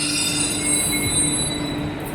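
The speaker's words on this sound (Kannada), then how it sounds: "ಬಂತು ನೋಡಿ ಮೆಟ್ರೋ." A metro train pulls into a station with a loud, steady rumble and a thin, sustained high wheel squeal, and no voices are heard.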